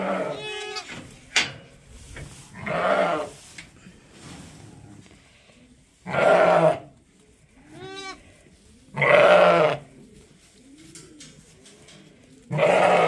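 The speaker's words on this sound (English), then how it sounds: "we're going to get some more sheep out of the jugs" Sheep bleating in a barn during hoof trimming and deworming, several loud wavering bleats at irregular intervals, some close and some farther off, with quieter animal sounds between them.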